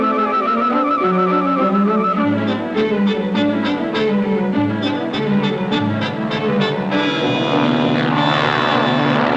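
Military propeller aircraft engine at a naval missile center, a loud steady droning roar with rhythmic pulsing beats and layered harmonic whine, alone with no talk.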